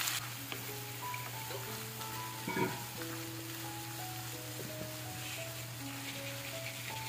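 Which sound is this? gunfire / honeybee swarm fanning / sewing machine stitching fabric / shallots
shallots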